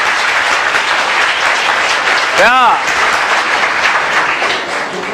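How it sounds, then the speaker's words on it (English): Audience clapping and applause fill a lecture hall on ancient history, a steady dense wash throughout with a brief voice cutting in near the middle. "So clap and tell me no."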